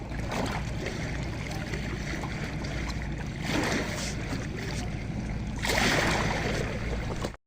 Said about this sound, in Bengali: আর নদীর কলকলো এই শব্দটা শুনুন